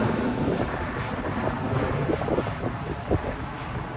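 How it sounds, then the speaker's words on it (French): Strong wind blowing outside a hangar, a loud continuous buffeting roar across the microphone with gusty swells and no speech. "Là, il va y avoir beaucoup de vent là."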